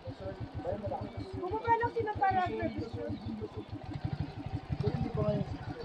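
A motorcycle engine idles while being parked, a low pulsing throb that runs throughout, with people talking over it nearby.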